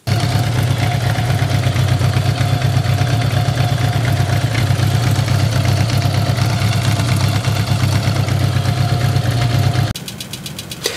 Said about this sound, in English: so I did start the bike